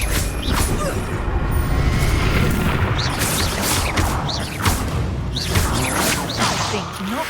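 Confringo blasting spells exploding in a Hogwarts Legacy battle, a dense run of loud booms and whooshing bursts with crackling impacts layered over a constant rumbling game soundtrack.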